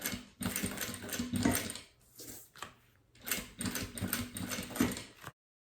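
Sewing machine stitching a clear plastic double pencil case, bursts of rapid mechanical needle chatter broken by short pauses and slower hand-turned stitches, close and fairly quiet.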